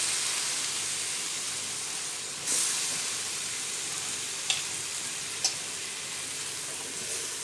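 Tomatoes frying in a pan of oil for a chana kulambu, a Tamil chickpea curry, give a steady close sizzle and hiss, with a few light spoon taps against the pan as it is stirred and no one talking.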